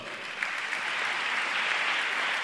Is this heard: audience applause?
yes